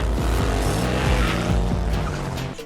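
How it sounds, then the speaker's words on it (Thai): A street race car in a Cuban street-race scene tears along with a roaring engine and repeated sharp tire squeals and skids, loud and close, the noise dropping away abruptly at the end. "ในฉากที่ดอมแข่งรถกับรันโด นักซิ่งที่เร็วที่สุดในคิวบา"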